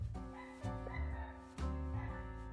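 Dogs barking outdoors nearby, a few loud sharp barks landing in bursts around the first and second halves, with steady background hum between them.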